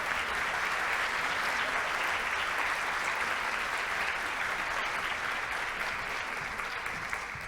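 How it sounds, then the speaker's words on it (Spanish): An audience at a plenary session applauds a hospital team, a sustained, even roar of many hands clapping that holds at a constant level throughout. "Ese aplauso es para todo el equipo de Imbanaco que está hoy aquí"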